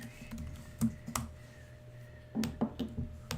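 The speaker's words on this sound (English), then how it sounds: "Much button clicking." Buttons clicked on computer and streaming equipment during setup for a live broadcast: a handful of sharp, quiet clicks and taps in irregular clusters against a low room hum.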